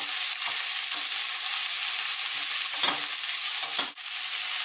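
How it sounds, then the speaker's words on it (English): Cabbage salad stir-fries in a hot pan with a loud, continuous sizzle, and a spatula stirs it with a few scraping strokes heard close up. "You do have to keep stirring continuously."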